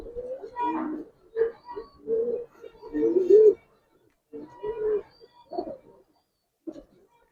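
Giribaz pigeons give soft, throaty coos in a series of short, uneven bursts with brief pauses, close and clear in a quiet space.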